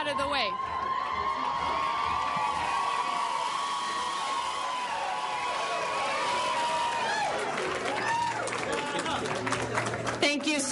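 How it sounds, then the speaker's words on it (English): A crowd at a political rally awaiting the candidate's speech cheers and claps continuously, a dense roar of voices throughout, with individual whoops and shouts rising near the end. "As you can hear, the crowd has been very anxious to hear her"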